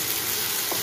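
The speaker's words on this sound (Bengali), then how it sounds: "ভালো করে ভাজতে হবে" Spices with turmeric and salt fry in a pan, giving a steady, close sizzle that stays even from start to finish with no voices.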